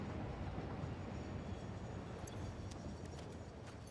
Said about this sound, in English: hello, train.